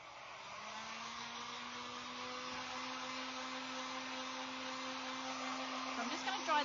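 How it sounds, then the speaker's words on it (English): A hair dryer drying decoupaged paper on a vintage ghost craft piece runs as a steady close whine with a constant tone, ending with a brief shift as it is moved or switched. "sometimes even just using the heat gun or your hairdryer smooths out those"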